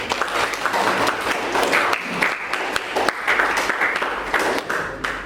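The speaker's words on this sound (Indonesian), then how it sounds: "Tepuk tangan dong untuk Santi." A small group in a classroom lesson claps and applauds steadily for several seconds, the clapping close and fairly loud.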